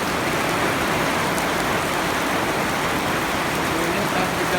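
Sudden heavy rain pours down on a hot April day, a dense, constant roar of drops on surfaces, loud and close with no let-up.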